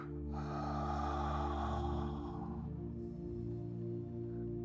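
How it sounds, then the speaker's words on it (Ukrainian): One slow, airy breath is drawn during a relaxation breathing exercise and fades after a couple of seconds. A steady, soft tonal music bed continues underneath throughout. "Вдих. видих."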